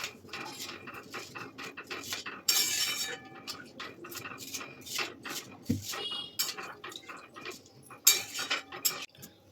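A utensil scrapes and clinks steadily against a pan while fried vermicelli is stirred with raw milk, with soft irregular knocks and taps close to the microphone.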